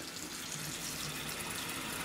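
Water running steadily into a bathroom sink as it is rinsed out, a faint, even hiss with no breaks and no voices.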